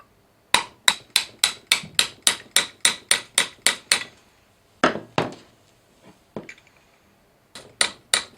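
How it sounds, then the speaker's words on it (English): Sharp metallic hammer strikes on a drift punch, knocking a groove pin into a KitchenAid KSM150 stand mixer, ring out in a rapid, even series of about a dozen blows, then a pause and a few more scattered hits. "Take the groove pin and knock it back in using the drift punch and hammer."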